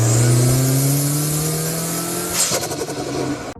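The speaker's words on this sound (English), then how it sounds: "There's a car passing by." A car passes close by, its engine note loud and falling in pitch as it goes, then fading into road rumble.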